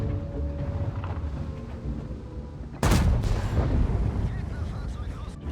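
A loud, sharp tank cannon blast cuts through a constant rumbling engine drone, followed by a rolling echo; a voice speaks over it, in the video game World of Tanks.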